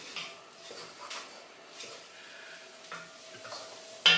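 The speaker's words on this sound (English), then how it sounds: "I'm gonna go ahead and add in my garlic powder and my black pepper and stir that up" A spoon scrapes and stirs garlic powder and black pepper into a pot of corn chowder base with a soft, intermittent scraping rhythm and faint sizzling underneath, ending in a sharp clink.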